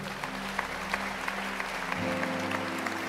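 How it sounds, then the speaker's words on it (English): A church congregation clapping steadily in a large room, many hands producing a dense, even patter throughout, with a low hum beneath. "Let's clap for them as they stand."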